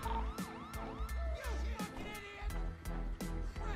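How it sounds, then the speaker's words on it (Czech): An ambulance siren in the GTA RP video game wails in quick rising and falling sweeps, mixed with heavy thumping music. "Sanitka?"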